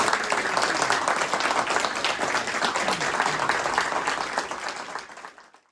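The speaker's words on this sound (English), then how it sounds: "Give them a round of applause." Sustained audience applause for comic creators Steve MacManus, Dave Hunt, John Wagner, Mike Dorey, Gerry Finley-Day and Alan Hebden at a Battle Picture Weekly comics event, a dense steady roar of many hands that fades out at the end.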